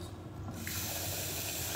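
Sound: rinsing rice in water

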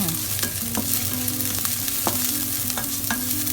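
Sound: onion frying in oil in pan

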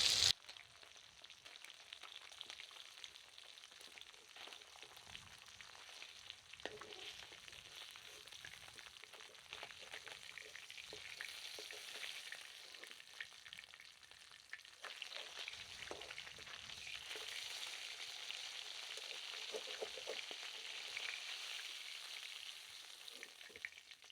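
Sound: katla fish frying in oil

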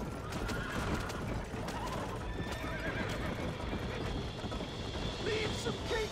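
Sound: horse whinnying and hooves in video game Red Dead Redemption

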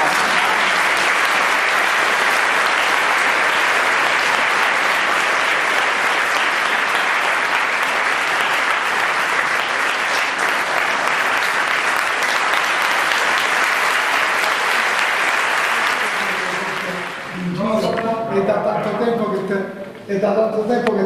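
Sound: audience applause at event

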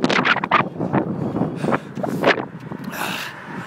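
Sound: strong wind

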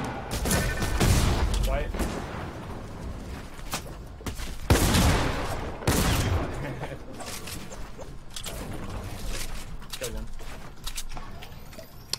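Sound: grenade launcher fire in a video game arena match

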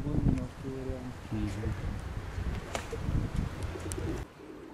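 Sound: pigeons

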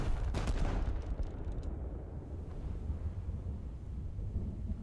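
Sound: tank gun test firing a high-explosive shell in a video game

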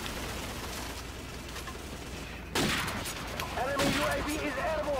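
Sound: gunfire in Call of Duty Modern Warfare Remastered video game

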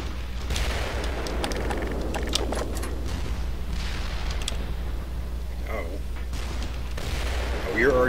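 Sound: gunfire and tank shots in the video game Black Mesa

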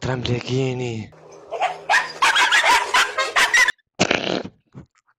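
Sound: dog barking

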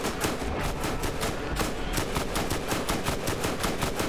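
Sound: gunfire in video game Borderlands

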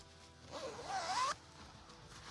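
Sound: side zipper on a Lilly Pulitzer dress

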